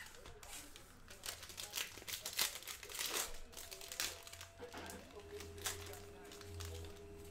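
A foil pack of 2019-20 Panini Chronicles basketball trading cards is torn open close up, with crinkling and tearing rustles running throughout and a voice talking over them.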